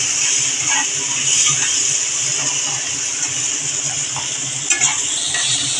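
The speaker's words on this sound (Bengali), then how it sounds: "আমি এখন টমেটো কুচিগুলো দিয়ে দিচ্ছি।" Chopped tomatoes cook with onions in a pan for a Bengali poya bhola fish recipe, a steady close sizzle with light stirring scrapes and a few utensil clinks, no voices.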